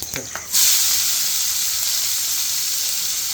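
Garlic cloves and onion sautéing in hot oil with asafoetida, a loud, steady close-up sizzle that bursts up suddenly and then hisses on evenly without pause, with no talking.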